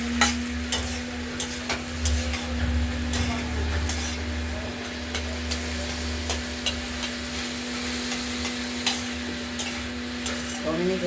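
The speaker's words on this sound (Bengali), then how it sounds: "বারে বারে একটু নাড়াচাড়া দেবো" Bottle gourd curry cooks down in a pan as its water dries off, with a soft sizzle running underneath and a spoon scraping and tapping at a steady pace. A low hum carries on through the whole stretch.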